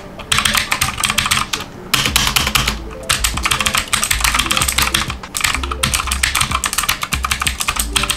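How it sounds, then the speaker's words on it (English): Rapid, loud clicks from a Redragon K552 Kumara mechanical keyboard clatter in continuous bursts, with brief pauses between flurries of typing. "It's a very, very loud clicky keyboard,"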